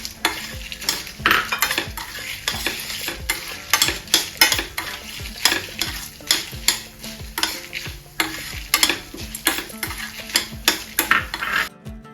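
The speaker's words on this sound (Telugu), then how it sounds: "ఇలా వేగుతున్నప్పుడే మనం ఎండుమిర్చి వేసుకోవాలండి" Bitter gourd frying in a pan with oil, loud crackling sizzle broken by frequent rhythmic stirring scrapes and clinks of a spoon against the pan, close and busy throughout.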